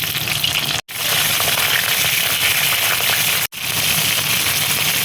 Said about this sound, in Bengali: এবার দেখো তেলের মধ্যে আমি ফুলকপিটা দিয়ে দিচ্ছি